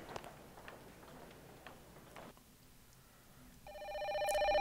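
An old-style telephone rings in the video game Memento Mori, a bright repeating ring that starts late and swells louder over faint ticking and low background ambience.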